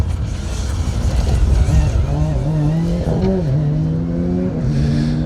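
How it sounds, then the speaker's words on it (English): A Porsche rally car accelerates hard on a forest stage at the Colin Ellmore Memorial Rally, its engine rising in a loud, sustained rev as the rear tyres spin and scrabble, close and dominant. "Wayne Priest dancing the Porsche, lighting up the back tyres."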